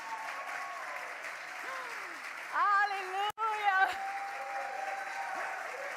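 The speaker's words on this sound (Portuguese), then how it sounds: "Uma salva de palmas para ela." Church congregation applauding amid a lively worship service, clapping running throughout while a voice shouts out over it and a brief louder burst breaks in near the middle.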